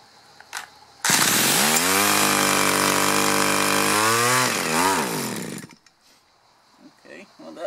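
A small two-stroke engine on an Echo HC 210 E hedge trimmer catches and runs. A loud buzzing whine holds steady for about four seconds, then sputters and dies, with brief talk before and after.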